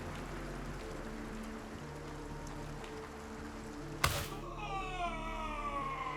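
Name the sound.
rain falling in the video game Gray Zone Warfare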